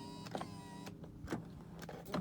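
Power seat motor whirring in short bursts inside a 2003 Subaru Outback Limited, several brief adjustment runs separated by pauses, close and moderately quiet with a steady background hum.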